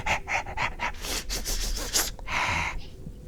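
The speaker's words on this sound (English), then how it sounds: "you can hear footsteps and panting like" Rapid, rhythmic panting breaths sound close by, mixed with scuffing, shuffling steps and rubbing noises, with no speech.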